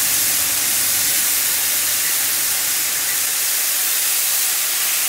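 Chicken strips browning in a hot pan for chicken fajitas, giving off a steady, dense sizzle that holds evenly throughout with no talking.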